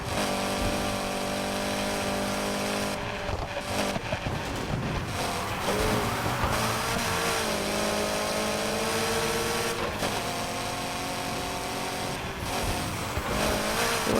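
Racing car engine in the Need for Speed Heat video game: a continuous loud engine roar under steady game music, with revs rising and dropping through gear shifts over fourteen seconds.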